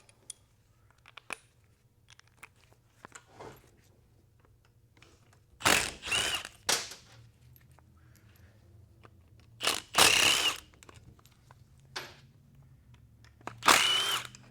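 An impact wrench works on a teardown of a 2000hp-rated Powerglide transmission in a garage, firing a few sharp bursts of loud rattling hammering between quiet stretches of handling noise and clinks.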